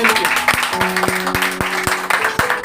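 A church congregation at a sermon service claps together, a dense patter of hands with a sustained tone ringing through it, fairly loud and continuous for a few seconds.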